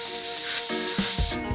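A spray gun laying down candy cobalt blue paint gives a loud, close, broad hiss, broken by a few short pulses of the trigger before it cuts off abruptly near the end.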